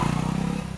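A motorcycle engine drones steadily close by in a village setting and then starts to fade as the bike pulls away, with a brief clattering texture and no speech.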